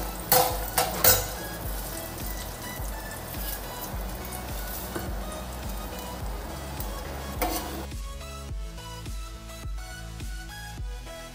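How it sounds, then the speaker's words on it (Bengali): Black cumin seeds and dried red chillies crackle and sizzle in hot oil for a tilapia curry, a dense steady frying hiss with a few sharp spatters early on, fading slightly toward the end amid faint utensil clinks. "এই তেলেই ফোড়ন দিয়ে দেব কালো জিরা, আর দুটো"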